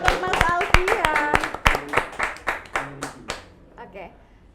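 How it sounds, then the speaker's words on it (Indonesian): A short burst of hand clapping from a small group at an arts and education talk, sharp claps that thin out and fade to a few scattered ones, with some voices mixed in. "tepuk tangan sekali lagi"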